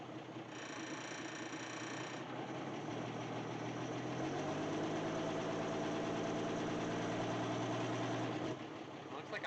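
A 1963 Ford Econoline pickup idles close by with a steady, loud rumble, its pitch shifting midway as the clutch is worked, with faint creaks and someone talking over the engine.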